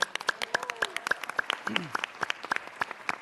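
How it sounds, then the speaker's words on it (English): At a city council meeting, a modest audience applauds students with sparse, distinct claps spaced irregularly, with brief vocal sounds from people in the room. "Let's give them a round of applause, everybody."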